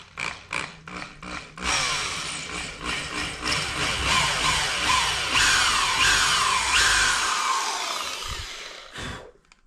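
A small drill bit boring into a wooden wedge in an axe handle: a few short knocks, then a sustained loud whirring grind with rough, fluctuating texture, close up, ending in a couple of taps, no talk.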